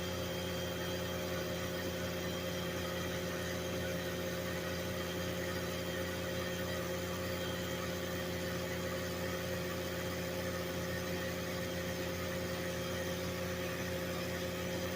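A vacuum cleaner runs steadily to pull engine oil through a homemade extractor tube, a constant droning whir with a low hum that stays level and unbroken throughout, with no voices.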